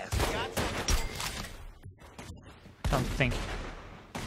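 Rapid bursts of gunfire from the video game The Godfather II crackle in loud volleys, drop away briefly, then return, with a voice speaking between and under the shots.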